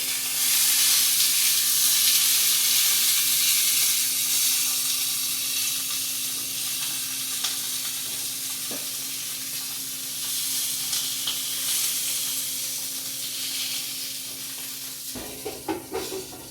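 Steady, dense sizzling of sausages browning in a frying pan, a continuous hiss with faint crackles and a few louder spatters near the end.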